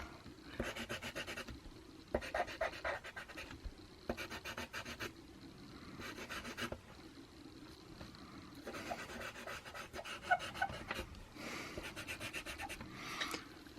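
White being added to a figure drawing on paper with aggressive strokes: close, dry scratching and rubbing in repeated bursts, each lasting a second or so, separated by short pauses.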